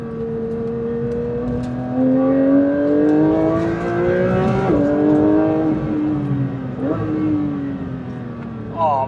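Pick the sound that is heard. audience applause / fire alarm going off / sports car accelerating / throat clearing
sports car accelerating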